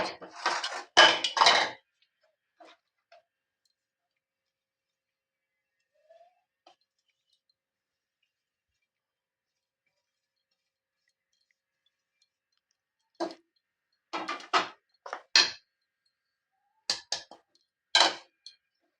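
A sweet cardamom-flavoured barfi mixture is stirred in a pan off the heat, with scattered bursts of metal spoon clinks and scrapes against the pan, separated by long silent gaps.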